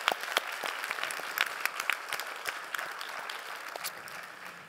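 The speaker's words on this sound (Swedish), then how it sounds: "Jag tycker att vi applåderar dem och tackar dem djupt för deras arbete." An audience at the Nordic Copyright Symposium applauds the interpreters, giving crisp individual claps that begin sharp and distinct, then thin out into a quieter, steady patter heard at a moderate distance in a hall.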